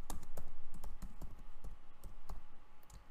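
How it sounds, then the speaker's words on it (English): Someone types code on a computer keyboard, sharp key clicks in quick irregular bursts, close and clear with no talk over them. "And then let me start typing the code."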